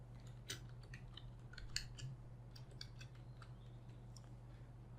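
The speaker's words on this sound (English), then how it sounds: "Now I click my second text and edit it and type" Someone types text on a computer keyboard, giving a faint, quiet run of scattered light clicks and taps over a steady low hum.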